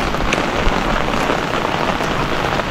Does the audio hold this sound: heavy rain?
yes